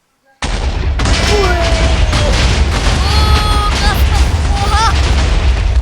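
Minecraft blast goes off suddenly and loudly, a heavy boom rolling into a sustained crackling roar that fills the rest of the moment, with excited players' voices and shouts cutting through over the noise.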